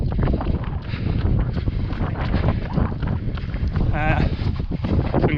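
Strong wind buffets the microphone on a walk along the Dutch coast toward the beach at Kijkduin and Monster, a loud, gusting rumble and roar throughout with no talking.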